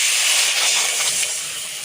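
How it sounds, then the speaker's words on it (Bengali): Curry broth with turmeric and salt bubbles in a pot in a village kitchen, making a steady close hiss of steam and simmering that fades slightly toward the end, with no talking. "ঝোলটা ফুটে গেছে"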